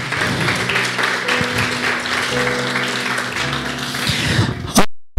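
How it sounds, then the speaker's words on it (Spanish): A church congregation at an Ekklesia service applauds loudly, a thick wash of clapping over sustained music and some voices, which then cuts off abruptly. "Vamos, aplauda bien fuerte, por favor."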